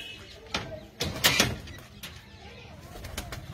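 Pigeons from Ramna Kotli's flock are released on a farm, with a few sharp wing-flap bursts and flutters scattered over a quiet outdoor background, close by.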